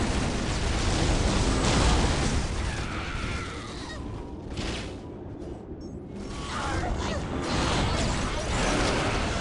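Gunfire and explosions in the video game Dawn of War Winter Assault: a dense, loud, continuous battle din of blasts and bursts, briefly dipping midway before surging again, with voices mixed in.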